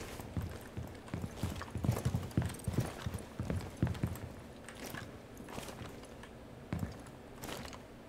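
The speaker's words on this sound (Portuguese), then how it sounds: "um cara vindo aqui, eu tô ouvindo os passos dele." Enemy footsteps approaching in Rainbow Six Siege during a ranked match, a series of irregular, fairly faint thudding steps and clacks spread across the moment, with no talk over them.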